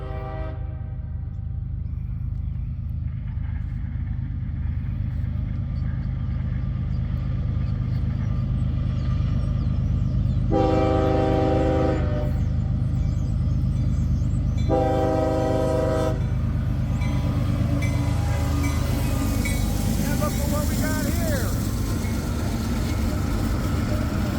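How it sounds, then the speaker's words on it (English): CSX freight train rolling past at close range in Greenwich, Ohio, a loud continuous low rumble of locomotives and cars with two long horn blasts sounding partway through. "We got some new locomotives here."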